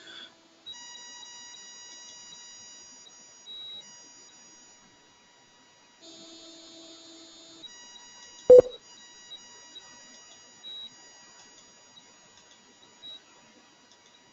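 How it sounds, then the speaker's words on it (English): Electronic beeps from a telephone conference line sound steady and fairly quiet, with a few brief tones standing out alone and no one talking. "You will no longer hear beeps until someone else joins the conference"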